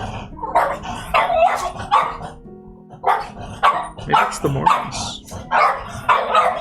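Coco, a pet dog, barks repeatedly in bursts of sharp, loud yaps, fairly close by, while someone talks over and between the barks.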